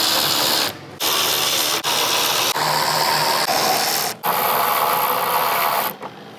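A ratchet with a 10 mm socket backs bolts off a 2022+ Toyota Tundra front end, loud close rapid clicking in bursts separated by short pauses between bolts.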